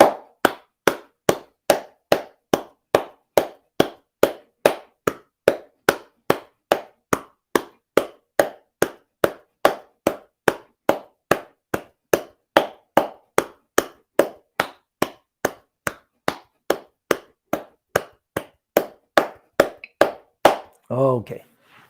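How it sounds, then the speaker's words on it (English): People clap their hands together in a qi therapy exercise, producing a long run of crisp, evenly spaced claps at a steady rhythm of about two per second that ends in a short vocal sound. "now clapping"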